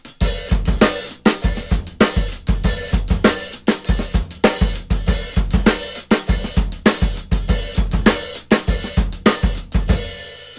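Loud drum groove with kick and snare, the hi-hat opening into a washy sizzle on each main beat, repeating steadily with no voices.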